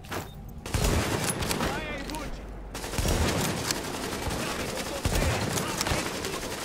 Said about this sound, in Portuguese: Os caras atirando aqui.